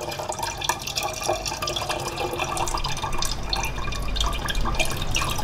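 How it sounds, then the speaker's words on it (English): Kombucha starter fluid poured back into a fermenting jar: a close, steady splashing and dripping of liquid that runs for about five seconds at moderate loudness. "But I want to pour the starter fluid back in."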